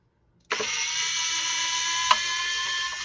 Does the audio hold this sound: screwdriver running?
yes